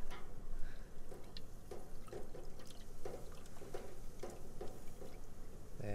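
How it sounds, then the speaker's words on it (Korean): Pacific razor clams rinsed in cold water, giving a steady close splashing and trickling with small repeated sloshes and drips, and no talking. "여기 지금 조개를 찬물에 넣어서"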